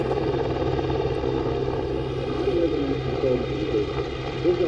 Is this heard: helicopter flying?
yes